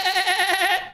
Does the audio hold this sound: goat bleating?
yes